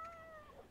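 A cat in The Sims 2 gives one short, faint meow with a falling, drawn-out tone, alone and quiet.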